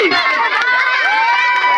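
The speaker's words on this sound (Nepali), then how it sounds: "जोरदार ताली सबैजनाले।" A lively crowd at a Holi football match between married and unmarried women in Itahari cheers and shouts loudly. Voices ring out in sustained high tones and drown out any distinct handclaps.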